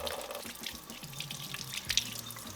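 Tap water runs into a sink while paint is rinsed off hands with dish soap, a steady close splashing flow with small splatters and shifts as the hands move under the stream.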